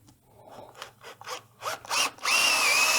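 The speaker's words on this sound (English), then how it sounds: "I don't want to risk running that drill bit in any deeper than I need to" A drill bores into a wood platter blank for woodturning: several short grinding bursts, then a sustained, loud whining drill run at the end, all close up.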